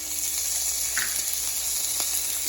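Corn, green beans and other vegetables frying for vegetable pulao, a continuous close hiss of sizzling oil with a couple of brief clicks from stirring, no voices.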